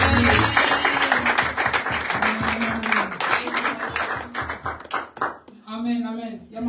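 A church congregation at a worship service claps and cheers for the Lord in a loud, steady burst of applause. Voices call out over the clapping, and near the end the applause thins as a voice rises.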